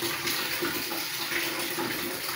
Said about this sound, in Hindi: नाप कर पानी डालेंगे